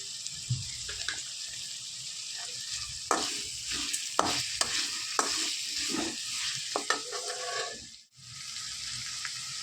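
Tomatoes with rock salt sizzle softly in a pan while a spoon scrapes and stirs in repeated strokes, and a brief hush comes near the end.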